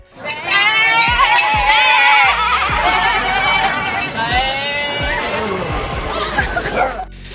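People in sheep costumes imitate sheep with their voices, giving loud, overlapping wavering bleats in quick succession from several voices close by.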